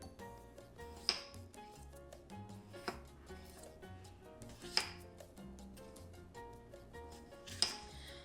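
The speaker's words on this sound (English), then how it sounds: "All right, all chopped up." A knife chops ingredients for picadillo and Spanish rice on a board, light rapid taps with three sharper cuts standing out, close but quiet, over soft background music.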